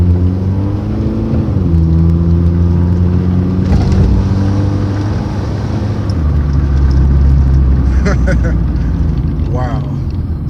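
A CB7 Honda Accord driving and cornering, its engine droning steadily up close and shifting pitch as it revs and settles, with the driver talking over the motor.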